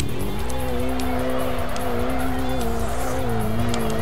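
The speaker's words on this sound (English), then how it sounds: "Whack the handbrake, whack it." In the racing video game Kaido Racer 2, a car slides under the handbrake with a steady engine drone and a sustained tyre squeal, loud and continuous with no talk.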